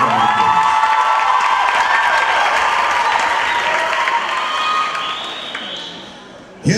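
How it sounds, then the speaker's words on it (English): A pageant audience claps for the princesses and queens, dense applause with some cheering filling the hall steadily before tapering off near the end, and no voices on top. "let's give them all a big round of applause."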